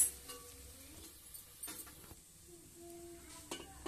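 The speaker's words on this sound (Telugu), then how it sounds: "కొంచెం కలిపిన తర్వాత ఇంకా రైస్ వేసుకొని కలపడమే." Jeera rice being stirred in a pan, quiet scraping and soft clinks of a utensil against metal over a faint sizzle, in short irregular strokes.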